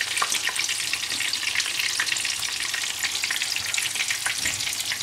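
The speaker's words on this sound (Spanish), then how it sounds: "Se echa a la sartén, esperamos que se fría bien frito, con abundante aceite, que esté bien caliente el aceite" A cachopo fries in a pan of abundant hot oil, giving a dense, close, constant crackling sizzle with scattered sharp pops throughout and no voices.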